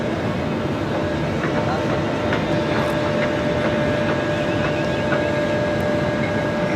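A China Eastern airliner brakes hard after landing on runway 34 left at Sydney Airport. A broad, steady roar of engine reverse thrust rumbles at moderate distance while someone talks over it.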